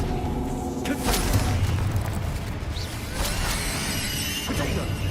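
Confringo, a fiery explosion spell, goes off in the Hogwarts Legacy video game with a few broad booming bursts and whooshes amid combat clatter, fairly quiet, while a voice speaks over the action.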